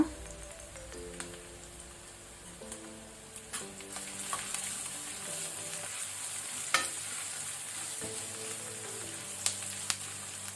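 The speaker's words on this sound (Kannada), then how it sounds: "ಈಗ ನಾವು ಫ್ಲೇಮ್ ಮೀಡಿಯಮ್ ಅಲ್ಲಿ ಇಟ್ಕೊಂಡಿದ್ದನ್ನು ಸ್ವಲ್ಪ ಫ್ರೈ ಮಾಡ್ಕೊಳ್ಳೋಣ" Onions fry on a medium flame in a pan for potato bhaji, giving a soft, continuous sizzle with occasional stirring clicks under quiet background music.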